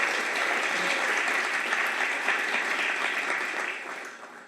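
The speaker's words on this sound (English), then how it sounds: "Round of applause for Jocelyn tonight," An audience applauds a speaker being introduced at an evening tech startup event, a dense, steady wash of clapping from many hands that holds loud and even, then fades away toward the end.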